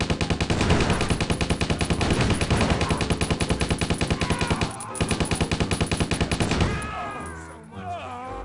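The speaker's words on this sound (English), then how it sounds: "they got machine gun nests" Rapid machine gun fire from militia gun nests in Stubbs the Zombie blasts in long, rattling bursts that are loud and close. The shots pound steadily for several seconds before they break off into a quieter tail.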